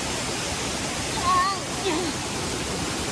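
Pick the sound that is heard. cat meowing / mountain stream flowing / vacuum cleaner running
mountain stream flowing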